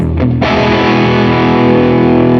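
A distorted electric guitar on the bridge pickup through a Vox AC30 amp plugin strikes a loud, sustained crunchy chord after a brief muted lead-in, ringing steadily and close with no voice.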